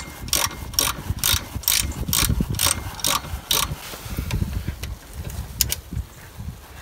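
A ratchet wrench working the wheel bearing bolts on a Peugeot 2008 rear hub, with about eight crisp, evenly spaced clicking strokes up close, followed by a few quieter clicks over faint background noise.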